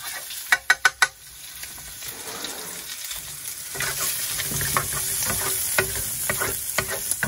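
Melted bacon grease sizzles steadily in a hot pan, a continuous crackling fry with a few sharp metallic clinks of a spoon against the pan near the start and scattered pops throughout.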